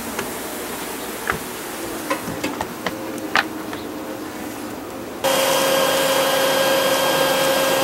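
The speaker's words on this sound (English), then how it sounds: "we made a bee vacuum and we're going to go ahead and use it for the first time here" A homemade bee vacuum switches on during a wild honey bee colony cut-out, its steady loud motor whine starting abruptly after quieter background with scattered clicks and taps.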